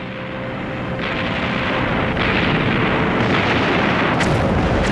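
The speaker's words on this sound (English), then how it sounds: "British planes bomb the French city of Marseille." Explosions from British planes bombing the French city of Marseille in World War II, heard as a loud, continuous rumbling roar with a few sharper bursts rising out of it.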